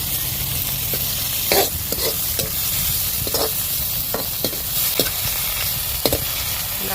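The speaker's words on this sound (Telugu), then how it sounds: "కొంచెం నూనె వేసుకొని ఈ చుక్క కూరను వేయించుకోవాలి" Chukka kura leafy greens frying in a little oil, a steady close sizzle broken by repeated spatula scrapes and knocks against the pan as they are stirred, with no voices.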